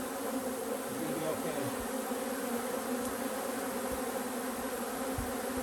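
Honey bees buzzing at a hive, a dense continuous hum that stays steady and close, with a few faint thumps and light background noise.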